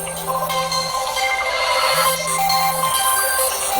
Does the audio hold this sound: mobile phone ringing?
yes